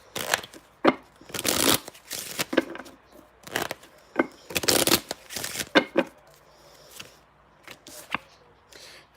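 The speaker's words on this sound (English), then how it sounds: "I'm going to pull a playing card to see." A deck of playing cards shuffled and riffled by hand, several loud, crisp bursts of flapping and snapping close up, separated by short pauses and softer handling, with no talking.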